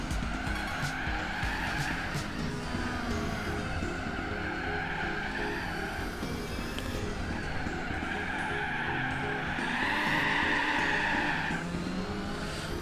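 A Lancia rally car in Gran Turismo 4 roars at high revs with tyres skidding and squealing continuously, the engine note rising and falling through corners, loud and close with no talk.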